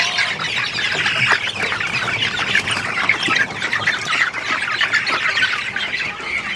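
A flock of farm chickens at feeding time squawks and clucks nonstop, dense and close, as a loud, constant chorus without speech.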